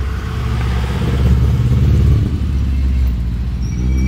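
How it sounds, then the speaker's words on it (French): A classic Peugeot 204 coupé Group 2 rally car drives past at a historic road rally, its engine a loud, close rumble that swells to a peak midway and then eases off, with no voices over it. "Arrive ensuite une Peugeot, une 204 coupé groupe 2."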